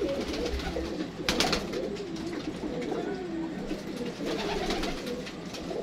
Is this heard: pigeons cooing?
yes